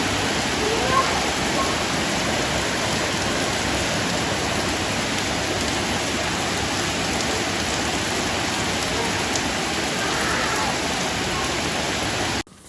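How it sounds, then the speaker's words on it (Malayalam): Heavy evening rain pouring steadily outdoors, a loud, even wash of drops that continues unbroken throughout before stopping abruptly at the very end. "പിന്നെ ഇതാ വൈകുന്നേരം ആയപ്പോൾ നല്ല മഴയാണ് കേട്ടോ."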